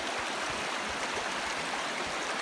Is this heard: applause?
no